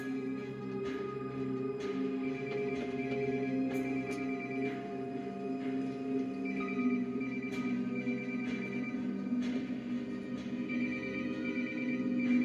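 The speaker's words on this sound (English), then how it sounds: "It's a cell phone. Where's it coming from?" A cell phone rings in a quiet room, its electronic ringtone repeating in regular bursts over a steady low hum for several cycles, with no one speaking over it.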